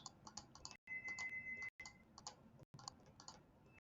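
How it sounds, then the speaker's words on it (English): Computer mouse clicking at a desk, a quiet run of rapid clicks in short clusters separated by brief silent gaps, close and faint with no talk. "Pardon the clicking sound of my mouse."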